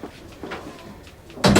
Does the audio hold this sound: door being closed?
yes